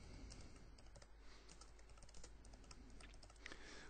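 Rapid, faint tapping of a computer keyboard as a file name is typed, a steady run of light key clicks close by with no voices.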